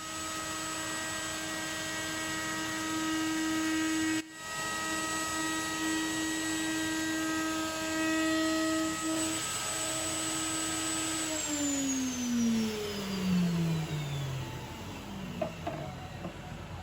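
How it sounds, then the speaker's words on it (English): A router fitted with a chamfer bit softens the top edge of a wooden box lid, giving a steady, loud motor whine with a constant hum that runs several seconds before winding down in pitch near the end. "I then softened the top edge of the lid with a chamfer."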